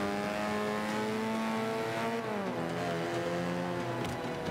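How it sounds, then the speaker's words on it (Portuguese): Race car engines from Forza Motorsport 5 roar continuously and loudly, with several cars revving and shifting on the final lap, pitch dropping and climbing through gear changes, no talk over them. "Os carros do Mr. B correm muito"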